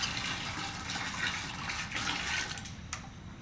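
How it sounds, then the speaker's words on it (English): Water is poured over homemade butter in Bhutan, a continuous close splashing and gushing flow with a few brief louder splashes near the end, no talking. "we will pour water and like this so that a small butter can come out."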